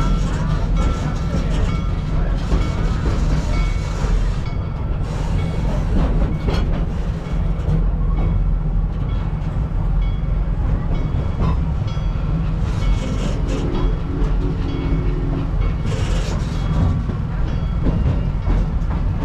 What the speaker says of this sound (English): we have the green train over there